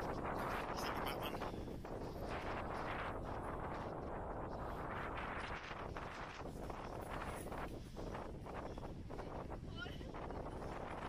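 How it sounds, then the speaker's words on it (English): Strong wind roars and buffets the microphone continuously, loud and gusty, with a voice faintly underneath, at a harbour and pier on the North Wales coast. "you can hear this, but it's super windy"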